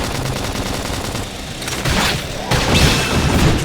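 A grenade blast erupts amid heavy weapon fire in Xenoblade Chronicles X, with loud, continuous combat noise building in distinct surges.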